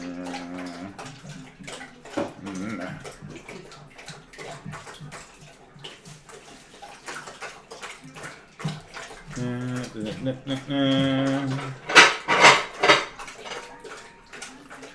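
Two dogs drink lots of water, lapping in rapid wet bursts with occasional clinks against the bowl. The lapping grows louder and splashier toward the end, with a voice heard at times.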